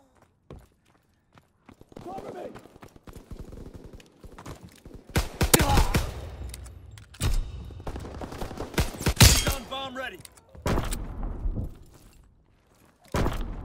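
Bursts of suppressing gunfire in the World War II shooter Call of Duty: WWII during a hardcore team deathmatch, loud and close, with sharp volleys and clattering footsteps amid shouted voices.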